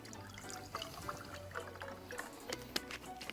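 Orange juice pours into a cocktail punch, a soft, continuous liquid trickle and splash that stays fairly quiet and close, with faint bubbling ticks and no voices.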